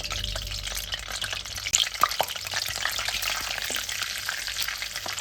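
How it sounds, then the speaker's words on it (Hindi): Cumin seeds frying in hot oil in a karahi crackle in a dense, close sizzle, with sharper pops and spits scattered through. "इसके अंदर डाला है ज़ीरा और ज़ीरा हो रहा है फ्राई"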